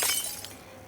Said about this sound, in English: The sound of the teacup smashing on the floor is sharp and loud, making you cringe.